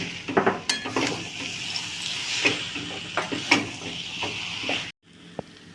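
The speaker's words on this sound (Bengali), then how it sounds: "বাদামটাও দিয়ে দেবো দিয়ে ভালো করে মিশিয়ে নেব আমি" A spoon scrapes and clinks against a pan while a vegetable chop mixture with fried peanuts is stirred, an irregular series of close taps and scrapes over faint hiss, ending in a brief quiet with one last tap.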